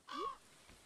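A crow in Stardew Valley gives one short, fairly loud caw with a downward-bending harsh tone, followed by quiet background.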